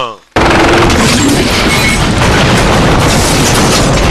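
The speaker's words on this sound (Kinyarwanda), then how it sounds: "rocket launcher" Rocket launcher blasts in a dubbed action movie: a sudden, very loud, continuous roar of explosions and gunfire that fills the whole stretch, with a voice talking over it.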